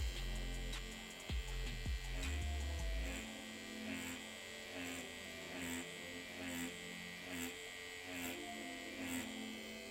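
A tattoo machine running a 7 curved magnum needle at 6.5 volts with a 3.5 mm stroke hums and buzzes steadily at close range, with a few brief knocks near the start and no talk.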